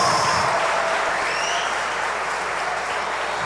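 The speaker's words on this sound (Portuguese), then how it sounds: "Mais uma forte salva de palmas para Jesus" A church congregation applauds in praise of Jesus, a thick, even wash of clapping from a large crowd that holds steady throughout, loud and unbroken.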